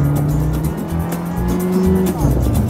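A voice imitates a toy car driving, a continuous close, loud buzzing engine drone with wavering pitch, during play by a pool.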